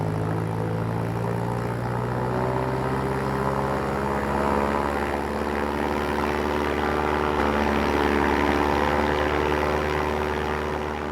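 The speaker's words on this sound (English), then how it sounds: "17 B-29s took off from Chengdu" B-29 bomber engines drone heavily and continuously, a loud, dense propeller roar that holds steady throughout with no voices.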